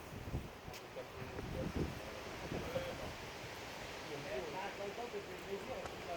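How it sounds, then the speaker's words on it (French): Strong wind buffets the microphone at an outdoor wedding, a steady broadband rush with low gusty rumbles and no break for the whole stretch. "il y a beaucoup de vent. Beaucoup, beaucoup, beaucoup"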